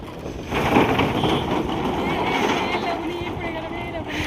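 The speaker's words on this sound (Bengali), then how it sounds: "সাইড দে বাইক আসছে।" A motorbike approaches along a road, its engine noise swelling and then holding as a steady rumble while people talk nearby over it.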